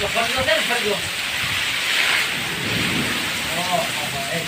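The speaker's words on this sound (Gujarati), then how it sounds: "પાછો વરસાદ આવ્યો આ વખતે તો પવન ને વરસાદ બધું ભેગું છે" Unseasonal winter rain hisses heavily with gusty wind and a low rumble of thunder, while a voice talks intermittently over the storm.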